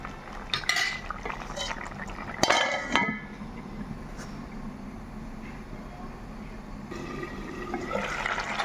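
A spoon scrapes and clinks against a pan while raw mango curry with jaggery is stirred, a cluster of metallic clatters early on, then a low simmering hiss with lighter scraping, no talking.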